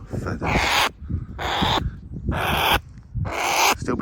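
A bird gives four loud, raspy croaking calls close by, each a harsh hissing burst separated by short pauses.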